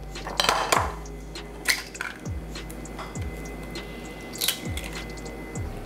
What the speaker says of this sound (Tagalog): ihahalo na natin tong noodles sa sardinas